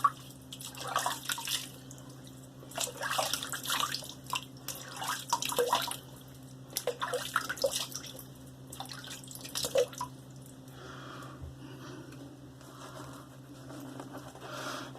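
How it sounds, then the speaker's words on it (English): Water splashes and drips as hands wet a face before shaving at a sink, in irregular close bursts of patter over a steady low background hum. "Let me wet my face."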